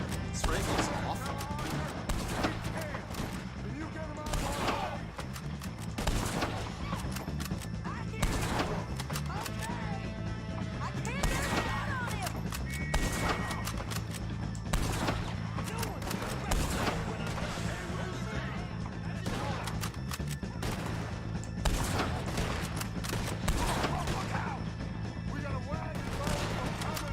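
Rifle shots ring out in the Red Dead Redemption 2 video game, a series of sharp, loud gunshots repeating at irregular intervals over a steady game backdrop, with occasional crashing impacts mixed in.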